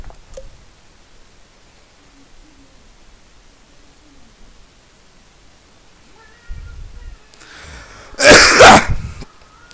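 Near the end, a single loud, harsh throat-clearing cough bursts out close to the microphone, preceded by a softer rumble, after several seconds of near silence.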